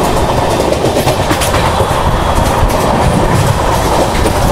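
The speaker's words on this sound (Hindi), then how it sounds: "फिलहाल अभी हमारी ट्रेन जो है वो कोसी कला को स्किप कर रही है।" A Sampark Kranti Express rolls along the rails past Kosi Kalan station without stopping, a loud, steady rumble with continuous clickety-clack of the wheels heard from inside the carriage.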